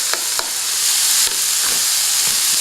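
Green onion is stirred into hot vegetables and shrimp in a sizzling pan, with a constant bright frying hiss and a few scraping utensil strokes against the pan.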